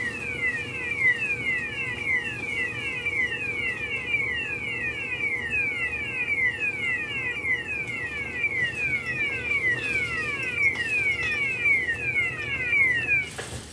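A workplace garage door opener runs steadily while closing the door, giving a continuous mechanical drone with a repeating rapid ticking or clicking pattern throughout, moderately loud and close, with no talk.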